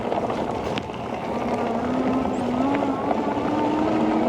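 Magicycle Ocelot Pro 2.0 e-bike climbing on throttle alone, its steady motor whine with wind rush and road noise running continuously at close range, no voices.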